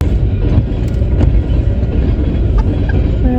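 A train rumbles past at close range, a steady loud low roar with faint clatter, heard outdoors on a day trip to an antique festival in Michigan. Nobody speaks.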